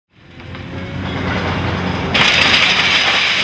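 A loud, continuous rumble of a train moving along railway tracks at Ghent Sint-Pieters station, building quickly and turning brighter and hissier partway through.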